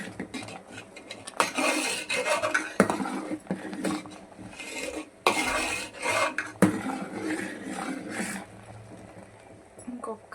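Boiling dal for vegetable sambar is stirred in a metal pot, a ladle scraping and clinking against the sides in uneven bursts over a faint bubbling simmer, with no talking.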